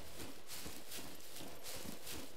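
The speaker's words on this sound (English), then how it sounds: "If you hear this galloping, it sounds like a horse." A charging animal gallops in the survival game SCUM, its fast, hoof-like thuds coming in an uneven run at moderate distance against a soft background hiss.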